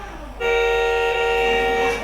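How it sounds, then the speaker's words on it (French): A Vespa scooter's horn blares in one steady, loud honk lasting well over a second. It cuts in abruptly after a moment of quiet street noise and holds a bright, buzzy tone throughout. "oh putain, regardez, je klaxonne."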